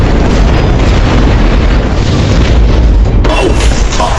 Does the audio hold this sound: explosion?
yes